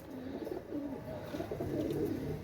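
Soft, low pigeon coos repeat in a gentle rolling rhythm, close by, with faint chirps in the background.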